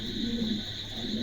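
A pair of Spanish pouter pigeons coos softly in a short, low, throaty burst, close by and quiet against a faint background hum.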